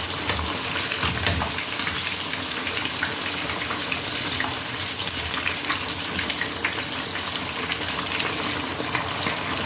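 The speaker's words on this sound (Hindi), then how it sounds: "चार मिनट हो गए हैं हमारी फिश को पकते हुए, तो अब हम इसकी साइड चेंज करेंगे।" Fish sizzling and frying steadily in a pan for a restaurant-style Lahori masala fish fry, a dense continuous crackle with faint watery sounds, loud and close with no talking.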